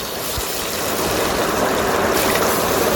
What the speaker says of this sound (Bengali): এবার আমি আলু কেটে নিয়েছি, আলুগুলোকে ভেজে নেব।